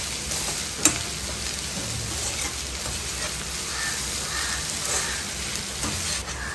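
Masala sautéing in a pan for a tiger prawn masala, a steady soft sizzle throughout with one sharp tap against the pan near the start and faint occasional stirring.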